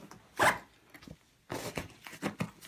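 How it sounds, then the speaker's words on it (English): Zipper running around a Gator mandolin case as it is closed one-handed, a loud rasping pull followed by a pause and then several shorter quick zipping strokes, close to the microphone. "easily closes and zips around"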